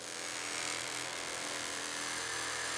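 A diamond polishing disc spins at 3,000 RPM against a rigidly mounted diamond, giving a steady, loud, dense whir with a high abrasive hiss that holds unbroken throughout.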